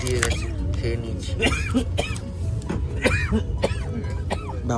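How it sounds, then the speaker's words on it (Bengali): An older man coughs in short, harsh bursts at home in a village, with voices talking around him. "বাবার কাশি হচ্ছে"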